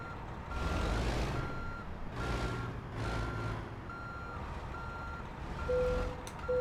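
Repeating reverse-warning beeps from a Kenworth W900 truck parking in American Truck Simulator, evenly spaced over a low diesel engine rumble, with no talk.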